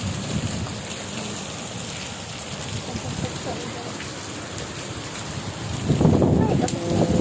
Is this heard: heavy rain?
yes